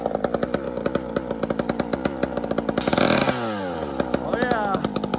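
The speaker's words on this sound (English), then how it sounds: "All right, I'm gonna hit the nitrous." A big bore Husqvarna chainsaw running on nitrous roars loud and close, its engine surging and bogging in rapid pulsing bursts, with a rising revving sweep as the throttle opens.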